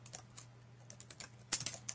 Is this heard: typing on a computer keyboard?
yes